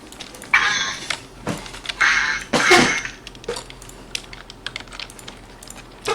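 Someone types on a computer keyboard during a casual gaming session at home. The keystrokes come close and crisp in several clattering bursts separated by quieter pauses, with faint background noise between them.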